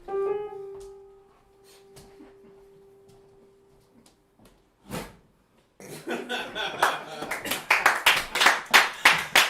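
Applause from an in-studio audience breaks out at an opera gala and builds into a dense, loud stretch of clapping after a quieter opening with a sustained tone and a few isolated taps.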